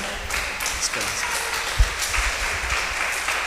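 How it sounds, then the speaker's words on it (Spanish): A church congregation gives moderate applause, a fairly soft, steady wash of clapping with a few louder individual claps standing out. "dele un aplauso al Señor"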